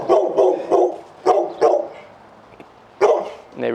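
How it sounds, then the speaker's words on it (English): Neighbor dogs bark in a quick run of five or six sharp, evenly spaced barks, then pause briefly before two more barks follow, fairly close and clear with no talking. "Neighbor dogs."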